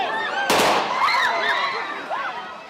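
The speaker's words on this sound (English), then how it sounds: "Gunshots to control crowds" A single sharp gunshot cracks close by amid crowds in Ukraine, followed by raised, shouting voices carrying over the noise of the crowd.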